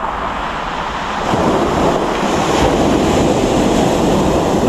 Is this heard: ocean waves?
yes